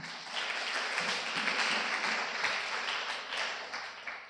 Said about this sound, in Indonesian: Kita tepuk tangan dulu dong buat pemateri.